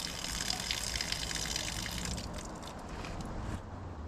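Water pours steadily from a barrel spigot in a continuous gushing stream, close and loud, with no other sounds.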